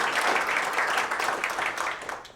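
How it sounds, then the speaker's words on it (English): Steady applause from an awards-ceremony audience honoring a finalist, a dense, continuous patter of many hands clapping that holds at a strong level and thins slightly at the end. "All right, one more round of applause for Miss Michelle Missy Cole."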